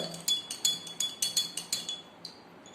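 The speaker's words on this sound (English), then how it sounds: "this mixture we will stir" A spoon stirring salt into water in a glass clinks rhythmically against the sides, about ten bright close taps over a few seconds, slowing and fading toward the end.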